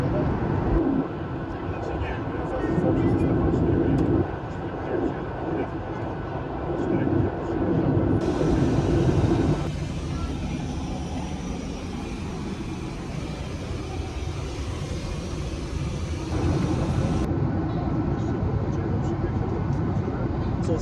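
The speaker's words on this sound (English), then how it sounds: "we are preparing for landing into London Stansted" Steady, loud cabin roar fills a Ryanair jet at night as it prepares to land at London Stansted. The broadband drone runs unbroken throughout, and its tone shifts slightly partway through.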